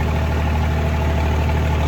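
A tractor engine idles steadily at close range during rice harvesting, a continuous low rumble with no talk.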